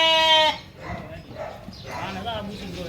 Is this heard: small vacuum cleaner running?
no